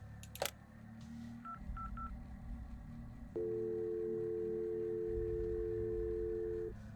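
Telephone in the horror game Twilight Tales, set in a remote convenience store, dialed with a few quick keypad tones, followed by a long steady electronic tone after a sharp click.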